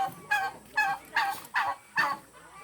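Repeated loud honking calls from farm chickens and geese, five evenly spaced bursts in steady rhythm, close by with no talking, on rural land in Bamban, Tarlac.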